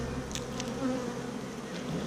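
Honey bees buzz steadily around an open hive during an inspection, a close continuous drone with brief louder passes near the ear and no talking.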